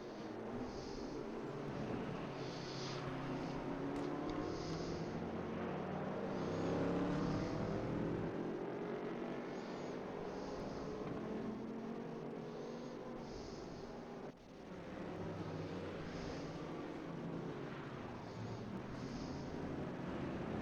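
Race cars roar around the Portimao circuit in a multi-class racing video game, a steady continuous engine drone with overlapping cars passing and shifting pitch, fairly loud and unbroken throughout.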